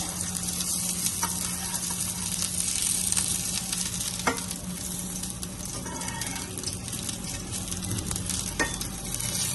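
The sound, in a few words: radish pieces frying in pan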